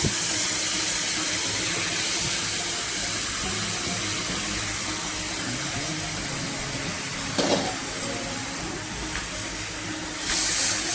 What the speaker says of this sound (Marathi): खोबरं वगैरे ते टाकून चांगलं परतून घेऊया तेलात